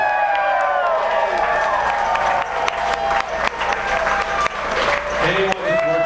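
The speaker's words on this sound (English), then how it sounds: "we want to give a toast and a congratulations and a round of applause for all of our employees" At a brewery's 15th anniversary celebration, a crowd of employees and guests applauds and cheers. Loud, continuous clapping mixes with whoops and excited voices, rising and falling in short bursts across the scene.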